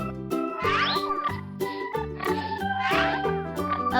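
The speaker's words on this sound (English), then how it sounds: "A pig." A cartoon pig oinks in a children's farm-animal cartoon, the grunts blended into busy, cheerful background music.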